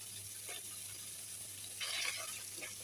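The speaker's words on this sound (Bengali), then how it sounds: "তারপরে ভালো করে তেলেতে ভেজে নেব।" Crushed garlic frying in oil in a pan for a spiced eggplant pickle dish, a faint, steady sizzle with a brief louder hiss near the end, close and without talk.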